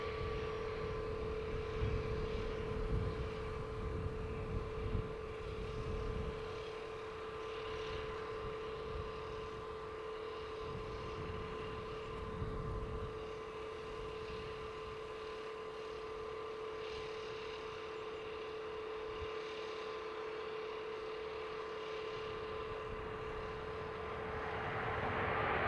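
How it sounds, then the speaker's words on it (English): An airliner landing on runway 28L at Dublin Airport, heard as a distant, steady engine drone that fades in the middle and builds again toward the end, with no talk. "They're landing much later on the runway than they normally would."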